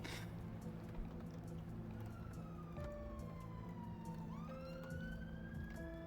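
An ambulance siren wails in the video game Old Skies, rising and falling tones sweeping over a steady background rumble of traffic, moderately distant and continuous.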